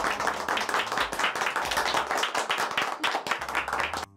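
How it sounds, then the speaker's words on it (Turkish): A small group claps heartily after being served food during a home dinner party, close and loud hand claps in a quick, continuous burst lasting several seconds. "Bu harika ikramlar için size kocaman bir alkış."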